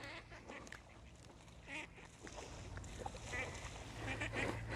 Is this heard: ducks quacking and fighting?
yes